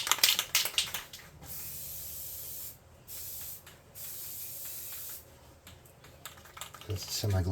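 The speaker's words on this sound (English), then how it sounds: "It's weird using white spray paint." White spray paint hisses from an aerosol can in several long steady bursts separated by brief pauses, close and fairly loud, with clicks and handling noise at the start and end.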